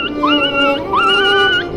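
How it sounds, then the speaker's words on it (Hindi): A dog whimpers and whines in pain, long rising and falling high-pitched cries in two drawn-out bursts, close and loud, used as a horror story sound effect. "कुत्ता दर्द से चीखता चिल्लाता रहा।"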